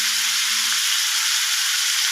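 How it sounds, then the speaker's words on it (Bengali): Papaya frying in a pan for a sweet tilottama dish gives off a steady, loud, even sizzle after water goes in, with a faint low clatter at the start and no voices. "একটু নেড়ে জল দিয়ে দেবো"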